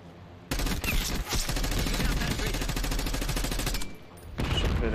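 Sustained rapid gunfire in Black Ops 6 on the Nuketown map, dense automatic bursts running nearly continuously with a brief lull near the end before firing resumes.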